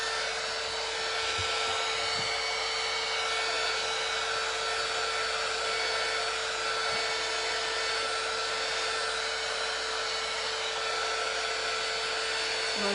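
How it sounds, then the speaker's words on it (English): A heat tool blows steadily and loudly throughout, drying fresh paint on a thrifted shelf during a makeover, a constant airy whoosh with a faint steady whine and no pauses. "we'll take my heat tool and we're going to start drying this"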